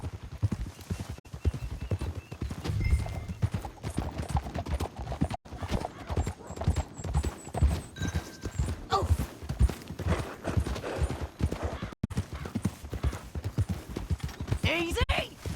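Horse galloping in the video game Red Dead Redemption 2, rapid rhythmic hoofbeats clip-clopping steadily throughout, with voices talking over them and a brief whinny partway through.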